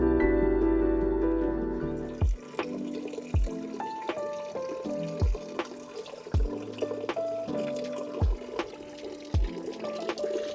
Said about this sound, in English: this is the Arion Spring. Apparently it never stops running even during times of drought.